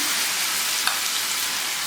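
Batter for a bottle gourd (lauki) snack hits a hot pan with a dense, even sizzle up close, steady from start to end, with one tiny clink partway through and no speech.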